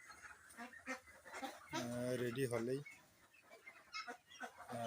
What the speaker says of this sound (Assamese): এয়া মোৰ লোকেল হাঁহ